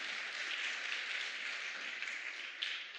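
Audience at a health talk clapping hands, a steady wash of applause from many people in a hall, moderately loud and continuous throughout.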